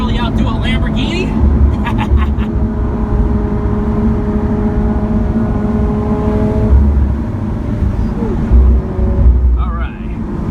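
A 2016 Lamborghini Aventador SV engine drones steadily from on board the car, a deep continuous rumble with slight rises, while people talk over it.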